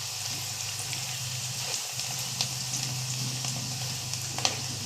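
Chana dal frying in hot oil while a spoon keeps it moving, giving a continuous bubbling sizzle with small scraping clicks scattered through it and no talking.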